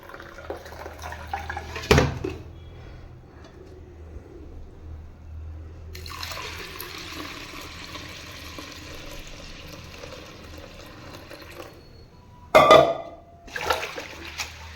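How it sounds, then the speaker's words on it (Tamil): Soaked black urad dal being rinsed in water for idli batter: soft splashing and sloshing in a vessel, with a longer stretch of running, pouring water and a couple of sharp clatters near the start and end. "இப்போ திரும்பவும் இதில் இந்த மாதிரி அலசிட்டு இதே மாதிரி ஒரு 4-5 டைம் படிச்சிங்கன்னா எல்லாமே டோட்டலாக க்ளீனாக வந்துடும்"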